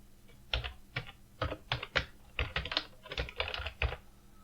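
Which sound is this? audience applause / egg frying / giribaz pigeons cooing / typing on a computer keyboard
typing on a computer keyboard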